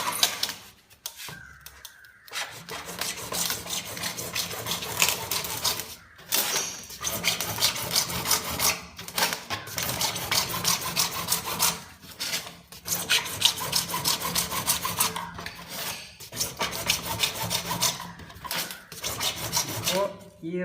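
Hand sawing through a plastic plumbing pipe to cut a 42 cm length, a steady close rasping rhythm of back-and-forth strokes with a few short pauses between bursts.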